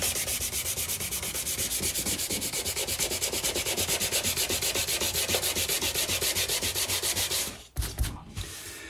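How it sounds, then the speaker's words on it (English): Dry sanding by hand on an acoustic guitar body gives a close, steady rhythmic rasp of rapid back-and-forth strokes, then stops abruptly near the end with a couple of soft knocks. "since I'm dry sanding and I want to keep an eye on it, I'm just going to wipe it down from time to time"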